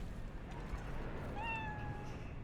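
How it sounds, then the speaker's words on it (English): A cat named Nibbles meows in Cyberpunk 2077, one clear rising-then-falling meow in the middle over a faint low ambient game background. "I can hear Kitty"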